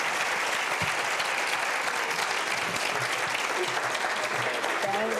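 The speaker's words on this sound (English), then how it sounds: "Could you please give our Director of Schools, Dr. Shawn Joseph, another round of applause" A school-event audience gives a round of applause for the director of schools at a State of Schools address, with steady, dense clapping filling the room for the whole stretch.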